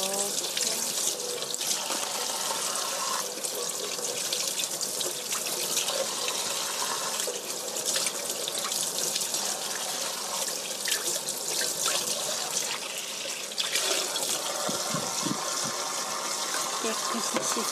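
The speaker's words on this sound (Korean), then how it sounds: "깨끗이 씻어 드시고요." Food being washed under a running kitchen tap in a sink, a continuous splashing stream with shifting splatter as items are rinsed, close and steady, with occasional light handling noises.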